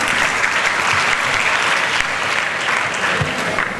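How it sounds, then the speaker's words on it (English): A student audience breaks into steady, dense applause for a speaker at a motivational talk, many hands clapping close and loud without pause. "as soon as you got up, you already started getting claps"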